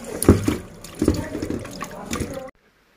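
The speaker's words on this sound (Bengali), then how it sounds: "তো চলো তাহলে আমি এই মাছটা ধুয়ে নিই" Tap water splashes and runs over a fish being washed in a kitchen sink, with knocks and handling noises, then cuts abruptly to silence.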